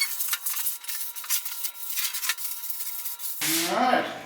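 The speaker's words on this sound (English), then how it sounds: "I'm going to follow that up with just a sanding block here, just to final smooth things out" Steady back-and-forth rasping of a sanding block rubbed over a wooden shop dolly's rounded-over edge, in short rhythmic strokes, close up, ending with a brief clatter.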